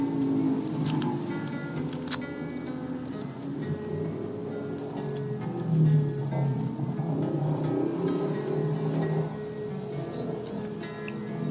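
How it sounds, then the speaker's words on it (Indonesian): Small scissors snip and trim the thin plastic film wrapped around a phone battery during an Oppo A5X screen repair, giving faint, scattered clicks and cuts close up at a quiet level. "dan kita rapikan juga ini plastiknya ya, plastik di baterainya"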